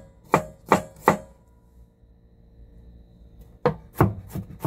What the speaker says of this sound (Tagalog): Ito yung ating garlic. Siyempre, i-slice po natin siya.